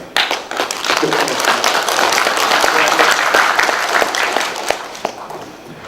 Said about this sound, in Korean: 자, 박수 합시다